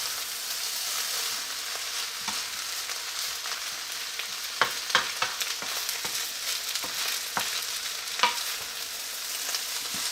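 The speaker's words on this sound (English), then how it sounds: "use the residual heat to put in the final touches of my fried rice" Fried rice sizzles in a hot pan while being stirred, steady crackling with sharp intermittent scrapes and taps of a spatula, fairly close and moderately quiet.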